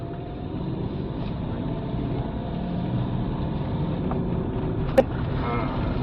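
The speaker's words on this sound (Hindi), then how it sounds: "अब दिखाते हैं गाड़ी में पावर कैसा आया।" A Mahindra Bolero BS6 pickup, recently fixed after a low-power fault with code P20A2, accelerates on a test drive: a steady loud engine and road drone heard from inside the cab, with a brief sharp click near the end.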